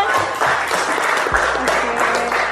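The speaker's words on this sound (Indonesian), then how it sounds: "Boleh tepuk tangan buat temannya." Students at an Islamic junior secondary school (madrasah tsanawiyah) applaud a classmate in the classroom, a dense, loud burst of clapping that continues throughout with some voices mixed in.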